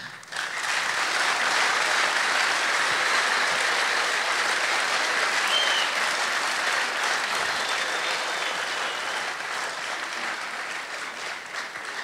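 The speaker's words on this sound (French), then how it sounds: "Est-ce que vous pouvez applaudir également les hommes?" An audience at a Kimbanguist music concert at the Institut Français in Brazzaville applauds the tenor and bass singers. The clapping is sustained and even, with many hands, continuing strongly for over ten seconds before easing slightly.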